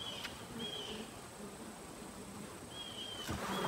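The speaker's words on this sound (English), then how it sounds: "Bees are very calm today, so far." Honey bees buzz steadily around an open hive on a farm, a continuous low hum with occasional individual bees whining close by.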